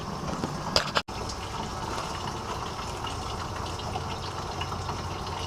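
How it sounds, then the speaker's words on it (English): Engine coolant drains from a car with a Paxton supercharger install underway, a steady close trickle and gush of liquid running for several seconds, broken briefly by a sharp click near the start. "basically just drain the coolant until it's empty"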